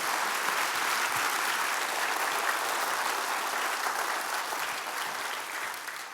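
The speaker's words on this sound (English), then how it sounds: "So go ahead and give them another round of applause for being here tonight." Audience applause at an evening event, a dense, steady roar of many clapping hands that holds loud and even for about six seconds, then begins to taper.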